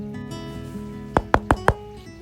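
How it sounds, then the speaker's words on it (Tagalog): Four quick, sharp knocks on a gate in a steady rhythm, standing out clearly above a continuous droning background tone. "hinihintay ang katok sa gate mula kay Nandoy"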